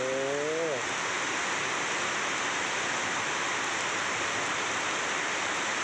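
Heavy rain pouring over a town, a loud, steady hiss of downpour filling the scene without a break, after a brief tonal sound at the very start.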